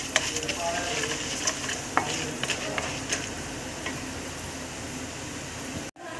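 Chana dal and urad dal with four red chilies fry in a hot pan, a continuous sizzle punctuated by light clicks and scrapes of stirring, close and steady with no talking.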